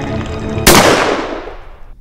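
A single loud gunshot in the pixel art horror video game Dias Felices cracks sharply after a low ambient hum, then rings out in a long decaying echo.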